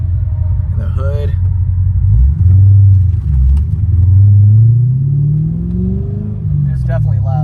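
A modded 2010 Corvette Grand Sport V8 rumbles deep and loud up close, rising through several revs with a pulsing low growl, while people talk over it at the beginning and end.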